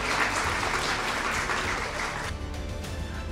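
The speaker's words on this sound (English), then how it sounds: "So let's give them a big round of applause" Audience applause honoring Muhammad Ali's wife Lonnie and six of his children, a dense, steady clapping from a large crowd that fills the whole stretch and eases slightly toward the end.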